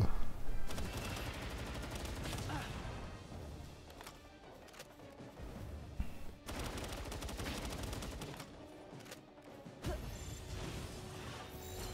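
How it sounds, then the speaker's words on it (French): Assault rifle gunfire from the Palworld video game during a fight with a level 44 alpha mini boss: repeated bursts of rapid shots alongside impacts and game effects, dense and continuous, with no talk over it. "On va le finir au fusil d'assaut."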